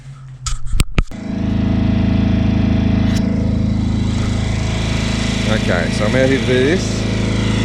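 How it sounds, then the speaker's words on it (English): A cheap portable generator starts up and then runs with a steady, loud engine drone. The hum holds constant through the clip, and someone speaks briefly over it near the start. "It's the generator I picked up. It's pretty cheap."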